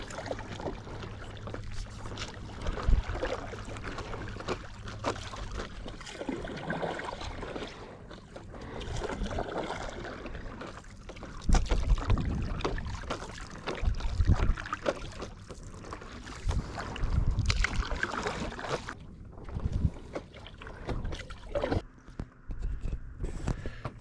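Paddle strokes and water splashing and sloshing while paddling out over a reef, rhythmic surges of water against the craft mixed with wind, continuous and fairly close, no talk.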